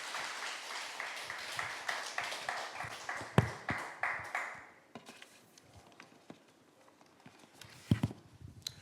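A church congregation claps together to give glory to God at a summer revival meeting, sharp overlapping claps for about four seconds that fade into scattered sparse claps and a few louder isolated hits.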